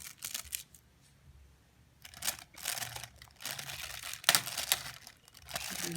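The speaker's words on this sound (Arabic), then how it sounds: "بنفتح فتحة بسيطة كده من الكيس" An oven roasting bag holding freshly cooked chicken being cut open, giving repeated crisp crinkling and tearing bursts of plastic, close and fairly loud, separated by short pauses.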